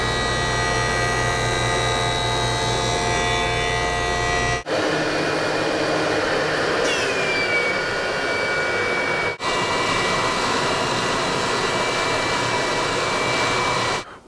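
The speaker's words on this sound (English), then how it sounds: "now I'm going to take it over to the joiner, flatten one face" A woodworking jointer flattens the face of a wood board, giving a loud continuous whine and roar, with the tone shifting as the board passes over the cutterhead in a couple of runs.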